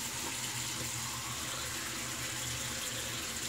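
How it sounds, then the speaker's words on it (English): Tap water runs steadily into a sink while the face is wetted before a shave, a continuous close splashing hiss with no talking. "So we're going to wet the face"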